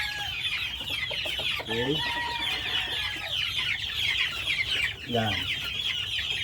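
Young chicks cluck and peep in a busy, steady chorus of high chirps, with a few lower clucks rising and falling close by before they are given probiotic to drink, while a voice speaks briefly over them.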